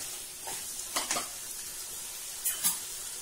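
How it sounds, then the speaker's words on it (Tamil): Mutton gravy with rice stirred in a pan, a soft sizzle underneath with a few quiet scraping strokes in two short clusters, close and faint, with no talking. "இந்த கிளறு கிளறிட்டு"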